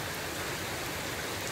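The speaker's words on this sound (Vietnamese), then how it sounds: "Mưa trên trời." Rain falls steadily outdoors, a dense even hiss of drops close by with no voices.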